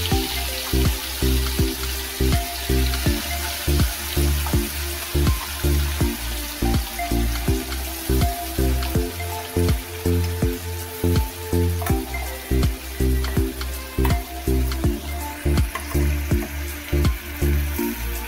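Curry leaves, then a ground paste of onion and garlic, sizzle in a hot pan: a loud, continuous crackling fry with a steady pulsing rhythm, close and alone, no talking.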